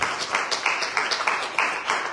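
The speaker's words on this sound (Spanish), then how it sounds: "¿Puedes dar una ofrenda de palmas al Señor?" A church congregation clapping in unison, a rhythmic series of fairly close hand claps at a steady beat with no talking.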